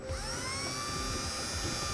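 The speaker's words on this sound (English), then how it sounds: "We're going to go ahead and drill out our center attachment point" Power drill boring out the center attachment point for a heavy-duty trailer hitch receiver on a 1986 Chevrolet, a steady high whine held without pause, close and loud.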